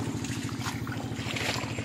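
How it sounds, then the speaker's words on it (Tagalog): An irrigation water pump motor runs steadily in a rice field during planting, a loud, continuous low mechanical drone with wind noise over it. "hanggang ngayon umaandar yung motor para lang po mabasa yung lupang pagtatamnan po nito"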